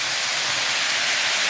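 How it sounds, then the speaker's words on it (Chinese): Duck necks dry-frying in a hot oiled wok with soy sauce, a loud continuous sizzling hiss, close and steady with no talk. "鸭脖上的水分往干炒一炒，倒点老抽、生抽、"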